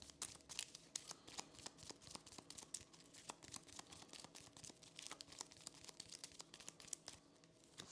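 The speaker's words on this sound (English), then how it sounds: "And we'll shuffle our discard pile." Cards from a discard pile shuffled during a Thunderstone Quest board game, a dense run of crisp riffling, crinkling clicks close by with no talk.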